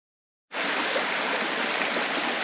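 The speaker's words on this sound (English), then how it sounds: "Heading towards the Kahuna Falls Overlook, one could find small streams." A small forest stream near Kahuna Falls in Hawaii gives a steady, full rush of flowing water. It starts abruptly after a brief silence and continues close and loud with no voices.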